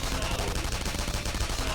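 Dense, continuous gunfire in the video game Persona 5 Royal, a loud rapid stream of shots with no pauses, like a sustained volley during a battle.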